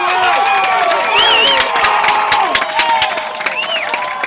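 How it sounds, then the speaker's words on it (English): A loud, close baseball crowd at a state playoff game cheers and shouts continuously, with many overlapping voices, whoops and rising yells over scattered clapping. "Crowd's all pumped up."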